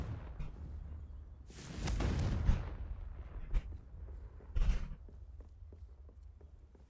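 The Confringo spell in Hogwarts Legacy lands as a rumbling explosive burst lasting about a second, followed by a few scattered thuds and softer impacts against quiet game ambience.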